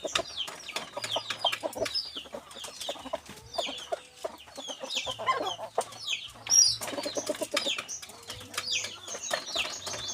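A captured red junglefowl clucks and calls repeatedly at close range, with scattered wing flaps and rustling among low background hum.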